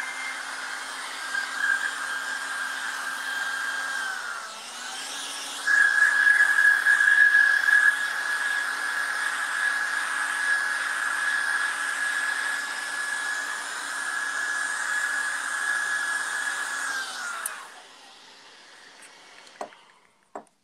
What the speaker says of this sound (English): I often try to resist using a hairdryer because I don't like them very much, but they're so handy.